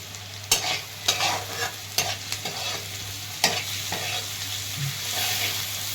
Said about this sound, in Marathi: तर आता तेलामध्ये लसूण टाकून घेते कुटलेला